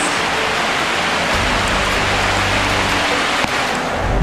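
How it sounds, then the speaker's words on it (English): Steady hiss of rain falling, a dense even wash of drops with a low rumble underneath, continuous throughout. "it decided to start raining now"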